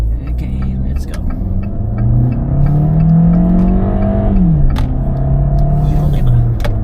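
A car's 1.4 engine with an erratic transmission hums from inside the cabin, its pitch climbing and then dropping at a gear change, steady and fairly loud, with someone talking over it.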